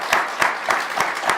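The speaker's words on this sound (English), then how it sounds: "let's give a big round of applause" A crowd applauds the writer J.F. Dubeau at a writers' panel, with claps swelling in rhythmic bursts roughly every third of a second, steady and fairly loud throughout the short stretch.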